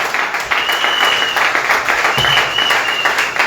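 A church congregation applauds loudly and steadily through the whole stretch, a dense wash of clapping with a voice speaking over it.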